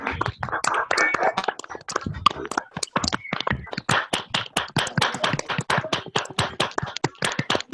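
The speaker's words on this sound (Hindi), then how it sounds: "बापूजी को प्लीज तालियां दीजिए, मुझे तालियां सुननी चाहिए।" A group of people clapping and applauding at a talk in Chhattisgarh, with dense overlapping claps that settle into steady, evenly spaced hand claps toward the end, fairly close and loud, with no speech over it.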